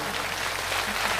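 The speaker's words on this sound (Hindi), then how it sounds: "अगर भजन अच्छा लगा हो तो दोनों हाथ उठा के ताली बजा दीजिए।" A crowd at a Hindu devotional bhajan and Bhagwat katha gathering claps in applause, giving a dense, steady wash of hand claps that fills the whole stretch, loud and close.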